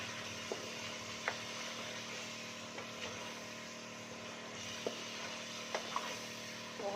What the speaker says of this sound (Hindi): हमने चिकन फ्राई करना है अच्छी तरीके से।